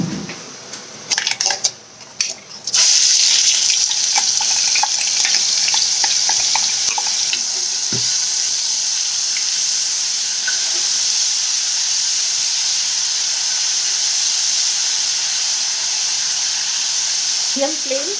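Onion paste hits hot oil in a pan with a loud, steady frying hiss and sizzle that starts after a few clattering knocks and carries on unbroken to the end.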